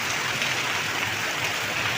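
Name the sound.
heavy rain during Cyclone Fengal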